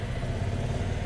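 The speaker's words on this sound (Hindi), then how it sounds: "बाइक को ऑन करेंगे, न्यूट्रल पे रख के हमें स्टार्ट करना है बाइक" A Bajaj Avenger 220 cruiser motorcycle runs in neutral just after starting, a steady close mid-pitched engine rumble with a fine clattering texture throughout, no voices.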